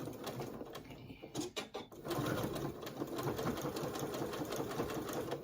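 A sewing machine back stitching a fabric bowl cozy runs at a steady, close mechanical hum, with a few short stops and starts before the continuous stitching settles in.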